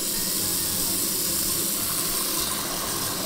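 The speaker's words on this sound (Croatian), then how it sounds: "Napunit ćemo šerpu vode i staviti da se kuva." A cooking pot fills with running tap water, a loud, continuous rushing hiss that stays steady from start to finish with no talking.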